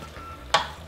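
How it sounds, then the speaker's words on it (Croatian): Swiss chard with ground oat flakes is stirred in a pan: one quick, close scraping swish over a faint, steady background sizzle. "Dobro promiješamo"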